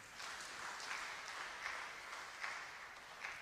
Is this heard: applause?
yes